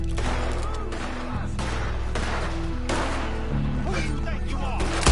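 Repeated gunfire in a Red Dead Redemption 2 shootout, loud dense bursts of shots over steady background noise, with voices speaking throughout.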